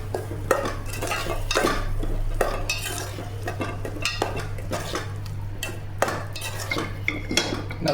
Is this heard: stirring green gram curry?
yes